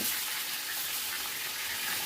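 Mango pieces sizzling steadily in a hot pan as they are stirred and turned, a close, even frying hiss with no talking.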